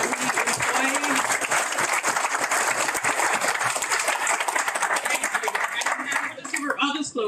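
Audience applause at a proclamation signing for Suicide Prevention and Recovery Month, steady loud clapping from a room of people throughout, with a few voices emerging as it fades at the end.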